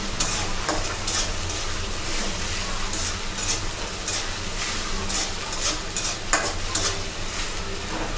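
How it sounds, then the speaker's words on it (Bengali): Fish curry with ginger paste is stirred in a hot pan, a continuous sizzle punctuated by regular scraping strokes of the spatula, about one every half second to second, close and fairly loud. "ভালো করে নেড়ে চেড়ে নিব।"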